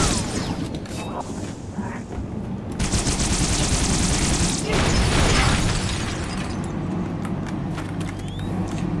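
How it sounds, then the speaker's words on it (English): Enemy gunfire in the Halo Reach video game, loud sustained rattling bursts of automatic fire with sharp pops and blasts, continuing steadily through the whole stretch. "They've opened fire."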